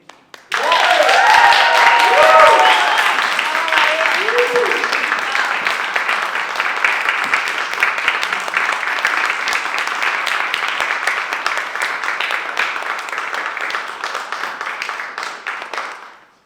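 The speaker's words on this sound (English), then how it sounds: "the applause says so much more than words can say" Audience applause after a poetry slam performance, a sustained roar of clapping lasting about fifteen seconds, loud at first with a few voices over it, then slowly fading out.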